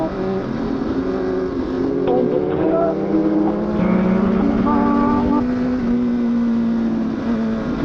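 A car passes among a group of sport motorcycles, including a CBR1000RR, on a road ride, heard as a continuous, loud engine and road drone with rising and falling harmonic tones over the whole stretch.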